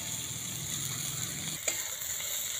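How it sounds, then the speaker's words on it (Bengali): Ivy gourd (kundri) with salt stir-fried in a pan, giving a steady close sizzle with scraping stirring sounds and a brief clink near the end, no voices. "লবণটা দিয়ে খুব ভালো করে নাড়াচাড়া করে নেবো।"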